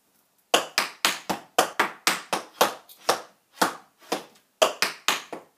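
Sharp, close percussive claps and foot strikes in a dance step routine land in quick groups of two and three with short pauses between, crisp and loud with no music or talk.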